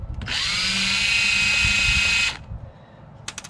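A power drill runs steadily for about two seconds with a high whine, backing screws out of the black plastic corners of an old computer monitor, then stops; a few faint clicks follow.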